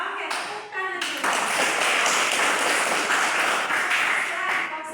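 A class of students breaks into dense, sustained clapping after a brief voice, the loud applause filling the room evenly for several seconds.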